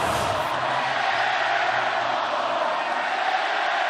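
Basketball arena crowd at a Nevada vs New Mexico college game roaring in a sustained, loud wall of shouting and jeers, steady from start to finish.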